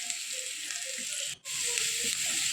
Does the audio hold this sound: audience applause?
no